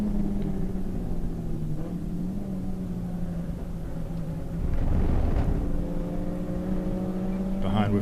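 Race cars lapping Hampton Downs in a one-hour endurance race, engines droning steadily at a distance before one car swells louder and revs through a pass midway, while a commentator talks over the action.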